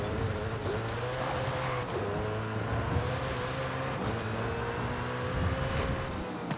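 A 1600-horsepower car in Forza Horizon 5 accelerates hard, its engine droning loud and steady with rising pitch through gear changes, close and continuous without talk.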